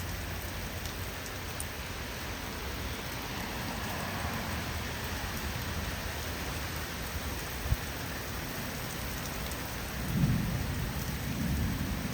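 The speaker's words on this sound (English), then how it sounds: "it's been storming pretty bad here in South Carolina" A steady, heavy downpour with rumbling thunder blankets a South Carolina front yard, a constant roar of rain with a low thunder swell near the end and no voices.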